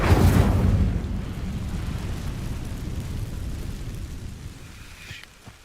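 A fire spell ignites dry vines in the Hogwarts Legacy video game. A sharp whooshing burst flares up loudly, then settles into a steady low roaring crackle of burning that slowly fades.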